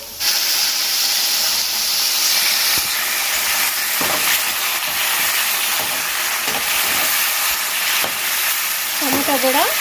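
Onions fry in a pan with a steady, loud hiss that fills the whole stretch, broken by occasional soft scrapes and a brief clatter near the end. No one speaks over it.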